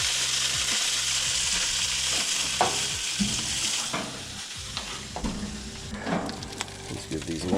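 Small pieces of dove meat sizzle and crackle in a hot frying pan, a loud close hiss that continues throughout, with scrapes and clinks as the pieces are stirred and flipped.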